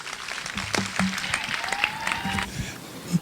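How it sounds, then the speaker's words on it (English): Crowd applause at an outdoor NAACP gathering, a continuous clatter of clapping with scattered voices and shouts mixed in, moderately loud throughout. "Give him another round of applause."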